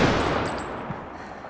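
A Galil rifle in the video game Call of Duty: Black Ops lets off a quick, moderately quiet burst of gunfire. It trails off into a short echoing tail.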